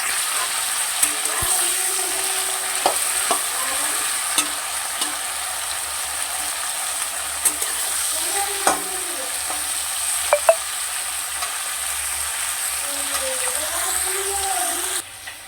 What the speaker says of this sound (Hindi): आलू फ्राई हो चुके हैं।